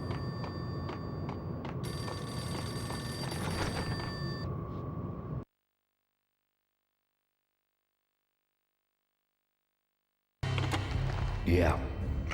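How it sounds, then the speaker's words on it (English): A payphone in the video game Max Payne rings with a bright electronic bell tone over a steady game background, cuts to silence, then returns with more game sounds. "The payphone started to ring."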